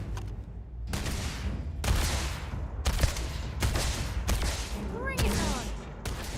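Rifle gunfire in the Starfield video game, heard as a string of loud, sharp shots spaced roughly a second apart, each with a booming tail, under brief talk.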